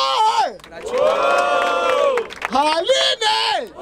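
A battle rap crowd at a festive June-themed edition in Barueri, São Paulo, roars and shouts together in loud sustained cheering, with whoops rising in waves and a brief dip before surging again.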